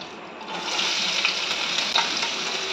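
Onion frying in mustard oil in a wok with whole garam masala: a steady, close hiss and sizzle runs throughout, rising slightly after the first half second, with a few brief spatters and no voices.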